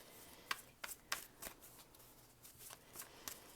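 Tarot cards are riffled and shuffled close up, a quick run of soft papery flicks and snaps at an uneven rhythm, fairly quiet with no talk.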